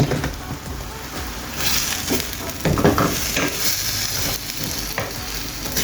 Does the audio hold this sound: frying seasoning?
yes